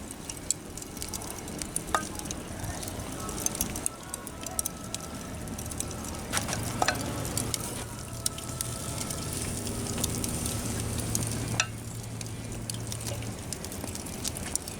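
Sauce-coated Korean BBQ pork loin sizzling on outdoor grill grates, a continuous crackling hiss with scattered pops and faint clicks of handling nearby.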